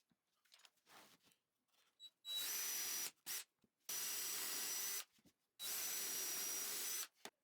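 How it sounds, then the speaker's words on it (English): Power drill boring dowel holes into glued and clamped 2x4 wood, three loud sustained bursts of whirring drilling with short quiet gaps and faint handling sounds between. "then drill dowels from both ends into it."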